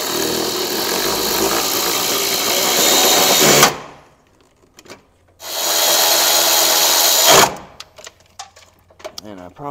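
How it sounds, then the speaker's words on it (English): A magnetic socket on a power driver runs bolts in on the cooling fan of a 2008 Honda CR-V, two loud sustained grinding whirs separated by a short quiet gap, close by with small clinks afterward. "I think I'll use my magnetic socket."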